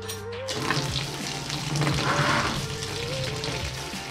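Steady rush of hot strike water pouring into a beer-brewing vessel on a three-tier propane system, continuous and fairly loud, with a low hum underneath and no talking.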